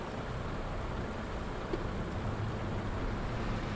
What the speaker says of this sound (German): habe ich hier das erste Mal Regen im Spiel?